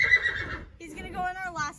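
A horse named Ferrari whinnies loudly and close while being loaded into a horse trailer, a single drawn-out neigh with a rising, quavering call and some background noise.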